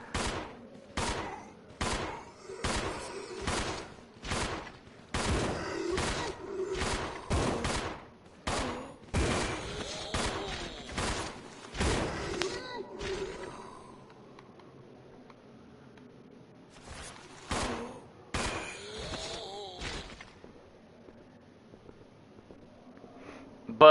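Repeated shotgun blasts in the Resident Evil 0 video game, a steady rapid volley of loud, sharp reports for about twelve seconds, then scattered shots with quieter game ambience between them.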